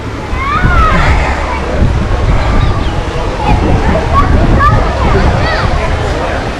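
Water sloshing and splashing in a resort koi pond, a steady broadband wash with small splashy accents, mixed with voices talking nearby.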